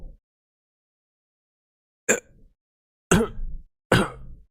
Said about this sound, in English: The air in my lung is sucked out, making me cough uncontrollably.